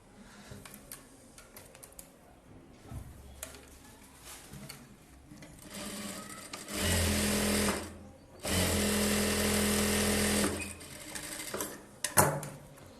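Sewing machine stitching a blouse, intermittent whirring bursts with two long steady runs in the middle, separated by quiet pauses, clicks and handling noise, close and without talk.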